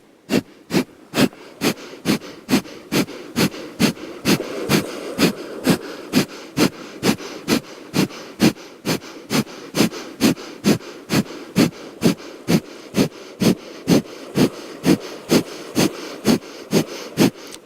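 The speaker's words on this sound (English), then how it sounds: "Keep going with the breath of fire." Breath of fire during a Kundalini yoga kriya: rapid, evenly spaced forceful nasal exhalations, about two per second, pumping in a steady sharp rhythm close up with no talking.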